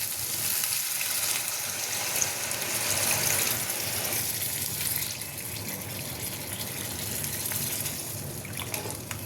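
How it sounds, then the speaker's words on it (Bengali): Water is poured into a pot of curry after its spices are fried down, giving a steady continuous rush and hiss with faint sizzling underneath, fairly loud and close, with no talking. "কষানো হয়ে গেছে, এবার একটু জল দিয়ে দিই।"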